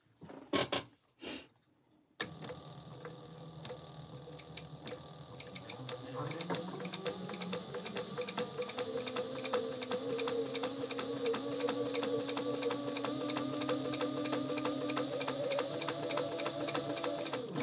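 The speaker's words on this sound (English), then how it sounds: "I'm just going to stitch down both sides with a top stitch on the wristlet." A sewing machine top stitches down both sides of a fabric wristlet, a steady rapid mechanical whir after a few opening thumps, running continuously with soft talk now and then.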